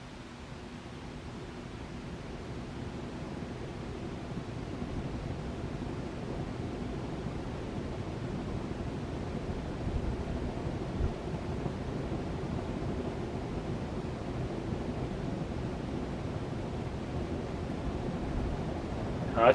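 A vintage made-in-USA Florida Keys brand ceiling fan running, a steady low whooshing rumble of moving air that stays even and continuous from start to finish with no voices.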